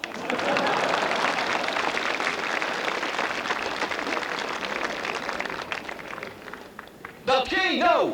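Guests clapping at a rural farmers' wedding celebration in D'n Dreumel, a dense crowd applause that runs steadily for several seconds before thinning out, after which a voice briefly cuts in.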